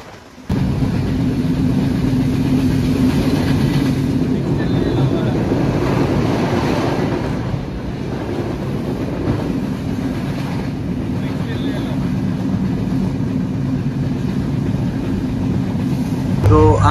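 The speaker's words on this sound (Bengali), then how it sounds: "ট্রেনটি সেখান থেকে জয়দেবপুরের উদ্দেশ্যে রওনা দিয়ে দেয়" The Dhumketu Express intercity train runs on from the station toward Joydebpur, a loud steady rumble and rattle of wheels and carriages heard from on board, continuous for the whole stretch with no voices.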